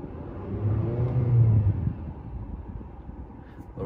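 Nissan X-Trail engine revved with the throttle, a low rumbling rise that swells for about a second and a half and then eases back to a steady idle hum, heard from inside the car.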